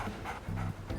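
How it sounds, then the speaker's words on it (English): Dog panting in the Undertale Yellow video game, a quick soft rhythmic breathing loop with a low tonal hum, quiet and brief, with no talk over it. "Oh, it's only a dog."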